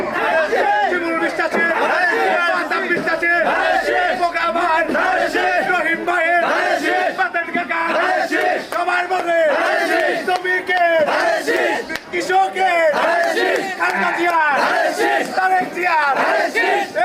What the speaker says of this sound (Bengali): উপস্থিত জনতা ধানের শীষের পক্ষে অঙ্গীকার ব্যক্ত করে জননেতা শিমুল বিশ্বাসের নাম উচ্চারণ করে বিজয় স্লোগান দেয়